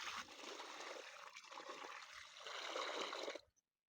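Water mixed with Polyter water-retaining granules is poured onto soil around the roots of an avocado tree, a steady close trickle and splash lasting several seconds before stopping abruptly.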